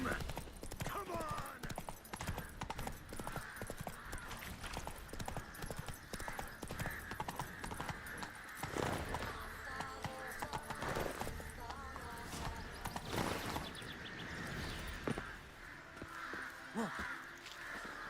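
Roach, the horse in the video game Witcher 3, gallops with a steady rhythmic clip-clop of hooves throughout, alongside crow caws and game ambience, while a voice talks over it.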